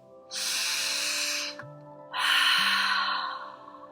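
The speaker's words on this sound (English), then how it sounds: "that's the type of breath that is in through the nose and out through the mouth" A deep, audible inhale through the nose followed by a long, airy exhale through the mouth, close and clear with a short pause between.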